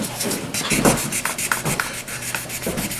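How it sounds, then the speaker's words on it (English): Quick back-and-forth rasping strokes of sandpaper rubbing car paint smooth during a paint repair, close and fairly loud, repeating in a steady rhythm with no talking. "we have it all sanded out, nice and smooth"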